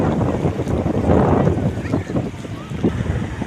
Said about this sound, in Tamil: எதிர்காத்து கொஞ்சம் அதிகமாக ஓடுது